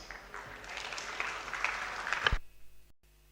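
Faint applause from an audience at a university robotics competition, a soft rolling patter of clapping that stops abruptly, leaving near silence.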